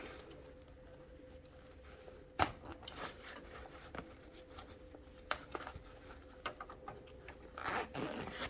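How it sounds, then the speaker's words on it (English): Zipper being pulled open on a lined fabric zipper bag, several short quiet zipping strokes and scrapes at close range over a low steady hum, with no talking. "now we're going to open the bag"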